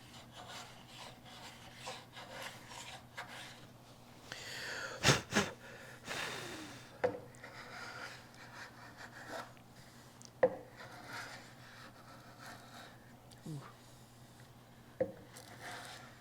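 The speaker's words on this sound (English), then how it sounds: "Just get rid of that built up glue." Built-up glue scraped off a wooden miter-joint box, faint rasping strokes in irregular bursts with a few sharper scrapes, quiet and alone without talk.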